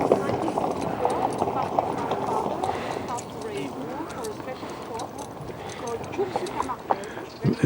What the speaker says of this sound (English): This white horse was just biting the other horse.